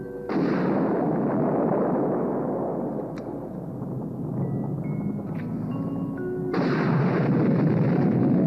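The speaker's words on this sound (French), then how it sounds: "Les explosions en surface se multiplient." Deep, rumbling explosions on the lunar surface roll on continuously, with a heavy booming burst at the start and another swelling near the end, loud and close with faint tonal tones between.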